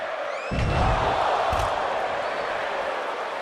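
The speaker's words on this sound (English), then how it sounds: "Listen to the crowd." A large crowd in the WWE 2K24 video game roars and cheers in a dense, continuous wash of noise during The Rock versus Roman Reigns, swelling after a brief quieter start, with a couple of thumping impacts.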